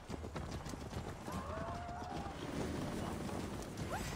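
Hooves clip-clop steadily as a horse is ridden through a town in the video game Assassin's Creed Valhalla, a quiet rhythmic trot over soft ambient noise, with a horse whinnying faintly.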